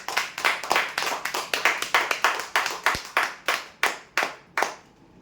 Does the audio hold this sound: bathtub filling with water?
no